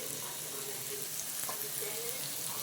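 Turmeric powder going into a hot frying pan while making egg rice, with a close, steady hiss of sizzling oil running throughout with no break.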